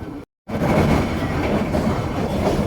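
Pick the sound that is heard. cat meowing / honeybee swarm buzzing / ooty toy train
ooty toy train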